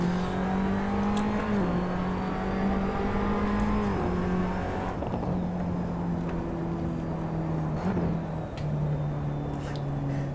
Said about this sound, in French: je ramène ma voiture au stand.